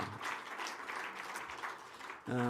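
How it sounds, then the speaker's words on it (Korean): Church congregation giving a round of blessing applause during a Friday service, a dense even patter of clapping at moderate distance, fairly soft, ending as a voice begins speaking. "저기도 축복의 박수 한번 해주시기 바랍니다"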